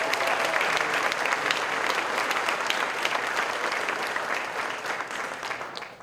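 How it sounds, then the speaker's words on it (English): Audience applause at the 2019 City of Destiny Awards in Tacoma, a steady dense round of clapping from a large crowd that holds evenly and tapers slightly toward the end. "Let's give them one more round of applause"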